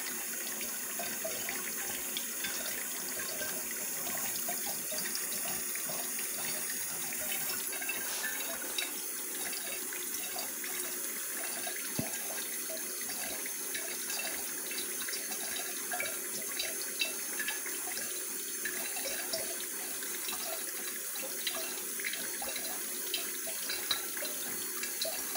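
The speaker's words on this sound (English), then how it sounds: "I get it turned down real low so the water will run through the plates in the machine very slowly" Water trickling slowly and steadily through a Leveluck water ionizer machine, a faint continuous running sound like a low faucet stream, alone without voices.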